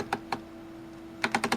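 The rotary switch of a Keysight U1282a multimeter clicks during a life cycle test: two spaced clicks, a pause, then a quick run of five sharp detent clicks, close and alone.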